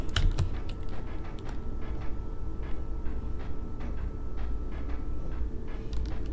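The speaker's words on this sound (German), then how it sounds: "Hör mal genau zu. Klick, klick, klick, klick." Quick, light clicks tick in an irregular stream during a session of the game Inscryption, faint and close, over a constant low background hum with no voices.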